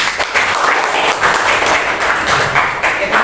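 A classroom audience applauds students after their presentations: dense, steady clapping from a group of people, fairly close and continuous for a few seconds.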